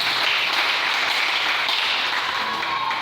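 A church congregation applauds the Lord together, steady dense clapping from many hands filling the room at an even, fairly loud level for the full stretch.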